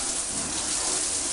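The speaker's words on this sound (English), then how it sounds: "We're going to soak the walls and the furniture and the carpet" Water sprays steadily and loudly inside a house, soaking walls, furniture and carpet to stage a flood, with a continuous hissing gush and no voices.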